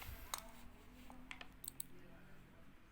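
Computer mouse clicks while working in Microsoft Word, a few sharp, faint clicks spread over a quiet background.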